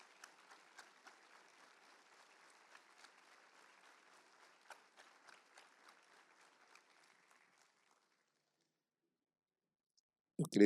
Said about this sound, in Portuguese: Devo crer que essas palmas são direcionadas a Deus, né?